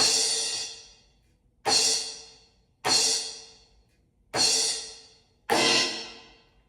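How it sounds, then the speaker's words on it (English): Five bright electronic crash cymbal hits spaced about a second apart, each decaying briefly before being choked by hand to silence, close and isolated. "The two crashes can be silenced with your hand by grabbing it like this."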